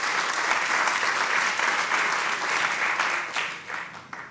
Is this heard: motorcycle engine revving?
no